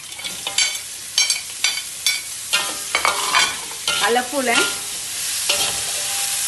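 Chicken and long beans stir-fry in a hot pan with steady sizzling, broken by repeated scraping and stirring strokes up close; a voice briefly speaks partway through.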